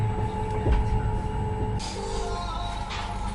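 A passenger train in India rolls along the rails with a steady low rumble and rattle, heard from inside a carriage, with a brief screech and shifting hum partway through.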